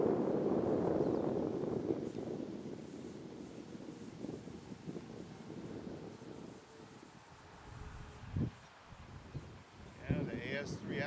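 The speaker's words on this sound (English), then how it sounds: "That wind is something. There's a bit of wind." Gusty wind buffets the microphone at a flying field for remote-control planes on a windy day, a loud, steady low rumble that eases slightly midway, with brief louder bumps near the end.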